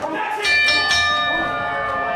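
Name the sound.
wrestling ring bell rung by referee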